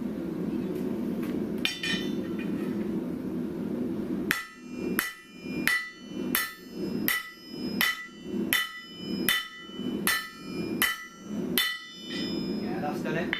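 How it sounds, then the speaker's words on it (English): A rounded hammer strikes metal to spread out a groove, landing about ten evenly spaced, ringing blows close up after a quieter stretch of handling noise. "Maybe the rounded hammer on the top again."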